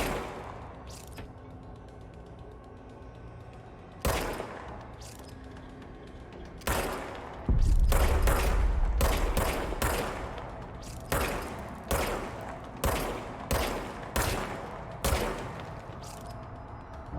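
Repeated gunshots from a magic gun in the video game Control: a few isolated blasts, then a rapid burst of shots with a heavy low thump, followed by a steady series of single loud shots.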